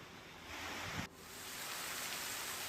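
Heavy monsoon downpour over Modasa in Aravalli, Gujarat, a dense, steady hiss of rain with a brief dip in the middle, with no voices heard.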